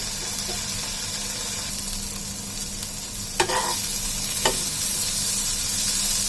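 Turmeric, coriander and red chili powder sautéing in a pan for a chicken salna masala: a steady, even sizzle with soft stirring and a couple of sharp scraping knocks.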